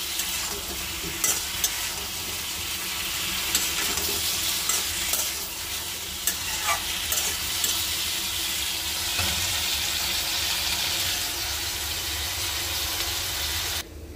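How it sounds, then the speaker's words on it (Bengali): Cauliflower, flat beans and eggplant fry together in hot oil, a steady loud sizzle with occasional stirring scrapes throughout, ending abruptly near the close. "এই যে দেখেন আমার ফুলকপি, সিম, বেগুন ভাজতেছি, আর একটু ভাজা হলেই নামিয়ে ফেলবো।"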